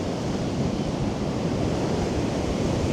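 Strong 60 mph winds and high-tide waves on the Blackpool seafront on a winter day, a loud, continuous roar of surf and wind buffeting with no let-up and no talk.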